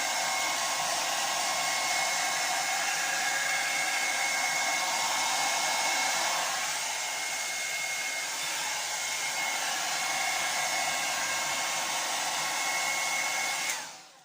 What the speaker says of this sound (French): C'est vraiment le sèche-cheveux qu'il vous faut.